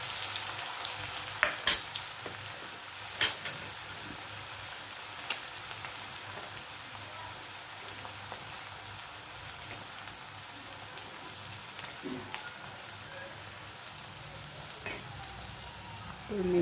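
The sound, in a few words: onions and chilies frying in a pan for pav bhaji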